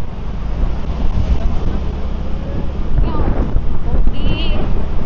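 Steady, loud wind roaring across the microphone throughout in Coron, Palawan, with rumbling gusts and faint voices mixed in underneath.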